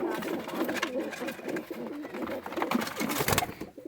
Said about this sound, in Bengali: এই যে পায়রাটা দেখো কত সুন্দর।